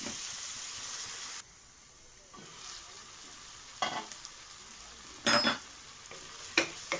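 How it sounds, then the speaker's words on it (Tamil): Tomatoes cook under a lid in a pot after sautéed onions. A soft, steady sizzle and hiss runs throughout, broken by a few short metallic clinks and scrapes, with no talk. "மூடி போட்டு வேக வச்சுக்கலாம் தக்காளியை."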